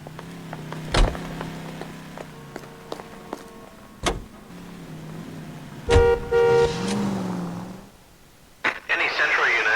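A car driving in the 1940s Los Angeles crime game L.A. Noire, with a low engine hum, several sharp horn-like toots and short mechanical clunks, mixed with radio-style chatter and speech throughout.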